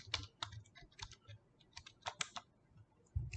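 Arduino code being typed on a computer keyboard: quick, close clusters of light key clicks in an uneven rhythm with short pauses, otherwise quiet.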